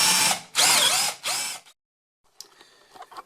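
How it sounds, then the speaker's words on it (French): A power drill bores a hole in a door while the handle and cylinder are replaced, with three loud whining bursts, a pause, then faint rattling and clicking. "si vous avez besoin de percer comme moi, ben voilà, c'est à ce moment qu'on va le faire"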